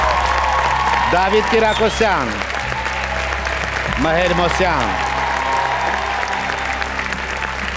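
Audience at a gala concert of a national singing contest applauds steadily throughout, a dense wash of clapping with a host's voice speaking over it and announcing names.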